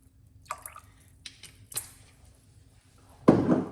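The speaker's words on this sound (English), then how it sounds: "just gonna tip a little bit of apple cider vinegar in the rest of left" Apple cider vinegar tipped into a parsley and lemon mixture, a few soft drips and squishes followed by a louder splashing pour at the end, close up with no talking.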